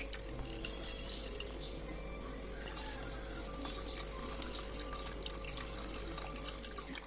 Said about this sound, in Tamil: இப்போ இதை ஒரு ஃபில்டர் வச்சு நம்ம வடிகட்டிக்கலாம்.